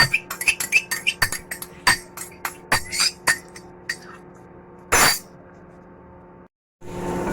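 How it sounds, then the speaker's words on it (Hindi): A spoon clinks rapidly against a kadai while beaten eggs fry, sharp metallic taps coming in a quick uneven run for about four seconds, then a brief scraping burst and a short pause before frying noise returns. "मैंने जैसे ही अंडे डाले, साथ ही मैंने इसके अंदर जो है वो तेज तेज चम्मच चलाना शुरू कर दिया"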